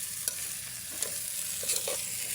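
Papaya pieces being stirred in a pan, in a coconut-milk dish: a steady close sizzle with a few soft spoon scrapes and knocks spread across the moment.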